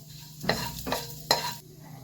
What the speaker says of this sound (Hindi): इसको भूंज लेते हैं जीरा को।